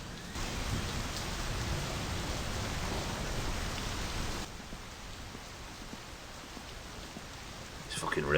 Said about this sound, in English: This fucking rain's a pain in the ass.